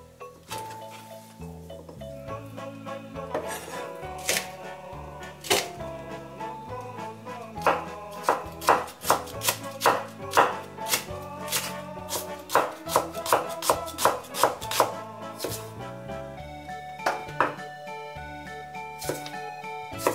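A kitchen knife chops tuna, green onion and cucumber into thin strips on a board, a rapid run of sharp, close taps building in bursts with brief pauses, over a steady bed of background music.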